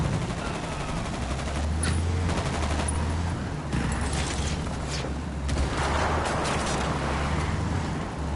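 Gunfire in the Ghost Recon video game, bursts of automatic fire crackling repeatedly through a firefight over a low rumbling background, fairly loud, with no talk.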